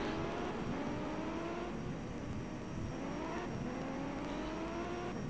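Skoda rally car engine in the N64 game V-Rally 99, a continuous droning engine note that rises in pitch through repeated gear changes, quiet and steady with no talking.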